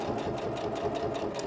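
A Singer Professional 9100 sewing machine stitches fabric at a fast, even mechanical whir with steady needle ticking, heard close and alone.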